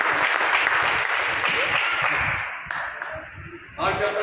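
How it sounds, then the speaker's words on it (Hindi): Audience applause fills a hall at a JDU party executive meeting, a dense steady clapping that eases off toward the end before a brief renewed burst. "एक तालियां उनके लिए जोड़ी जाए।"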